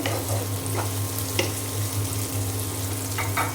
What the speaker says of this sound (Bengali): এখানে যে তেল গরম হয়ে যাওয়ার পরে আমি পেঁয়াজ রসুন আর কাঁচামরিচ দিয়ে দিয়েছি।